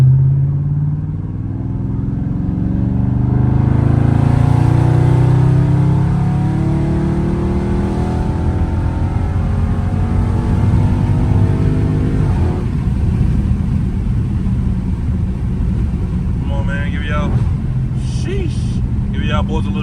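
A Dodge Scat Pack with a catless exhaust accelerates hard, a loud, rising engine roar that builds steadily and stays close, with someone talking over it throughout.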